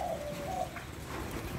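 Spotted doves of Thai and Malay stock coo from nearby cages, a soft, low repeated call set against a steady background hum and faint chirping.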